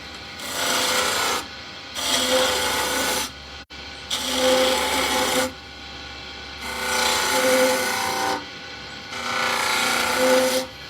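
A spindle gouge cuts a cove into a spinning wood workpiece on a lathe, with five or six rasping, shaving bursts of about a second each, separated by short pauses, close and clear with no talking.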